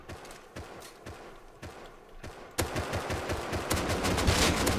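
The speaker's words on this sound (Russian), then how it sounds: "Вот, выстрел был." Gunfire in the survival video game Rust, a run of sharp shots, first spaced and fairly close, then denser and louder bursts over rising background noise.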